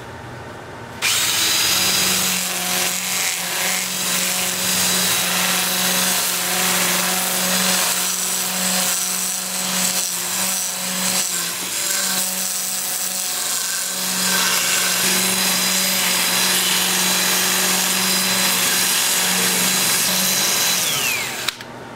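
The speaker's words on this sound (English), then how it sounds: "I'll sand all of the turned parts, and I'll work up through 400 grit." Turned wood parts on a lathe being sanded with a sanding disc working up through the grits to 400, at about 350 RPM: loud, continuous whirring and abrasive rubbing over a steady motor hum, running unbroken for about twenty seconds with no talk.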